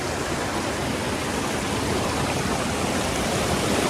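River water flows steadily at an eco tourism park in Karbi Anglong, a dense, continuous rushing wash heard up close, with no talk over it.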